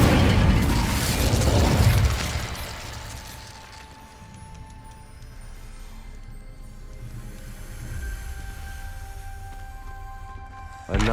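Incendio fire spell cast in Hogwarts Legacy, a loud burst with a whooshing, crackling blast that fades into a lingering rumble and low mechanical hum.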